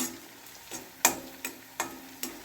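Onions and two dried red chillies sautéing in a pan for a Tamil mint-coriander thokku, with a faint steady sizzle broken by sharp, evenly spaced scraping ticks of a spatula against the pan.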